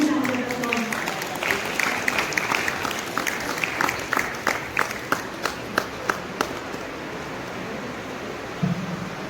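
An audience at a college society function in Dharamshala claps in sustained applause, a dense crackle that thins into scattered individual claps before a short voice near the end.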